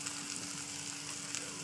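Meat fries in spiced oil, a brief, soft and even crackling sizzle with no talking.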